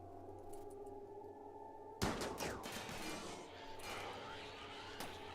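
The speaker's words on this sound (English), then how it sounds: "Okay, everyone open fire." Gunfire in the video game Rimworld: a sudden sharp burst of shots follows a quieter stretch, then a few scattered cracks, over a low electronic drone, moderately loud.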